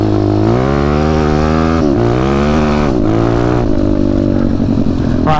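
WPB 190 pit bike engine fitted with a new NIBBI carb revs loud and close, its pitch sweeping up and down in repeated throttle blips over a continuous harsh drone.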